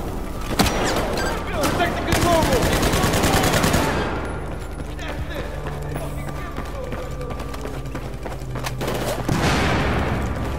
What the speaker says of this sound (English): We're getting some way too close shots right now.